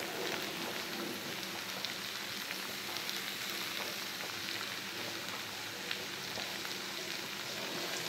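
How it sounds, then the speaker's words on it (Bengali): Prawns and spice paste sautéing together in a pan for a jackfruit-prawn curry, giving a steady, dense sizzle that holds close and even for the whole stretch, with no talking. "চিংড়ি মাছটা ভেজে নিয়ে তারপরে মশলা কষিয়ে সব একসাথে ঢেলে দিয়ে কষাচ্ছি"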